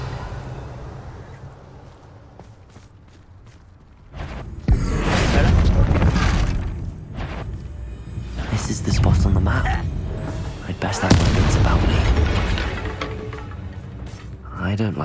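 The Confringo blasting spell in Hogwarts Legacy goes off mid-battle, with loud booming bursts and crackling impacts amid other spell effects after a quieter opening, alongside brief voices.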